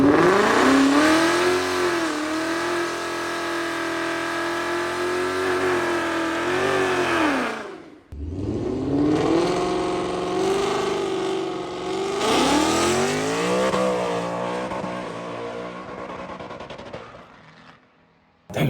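Ford Mustang accelerating down a quarter-mile drag strip, a loud engine roar climbing through gears with a brief break near the middle, then continuing to rev as it pulls away.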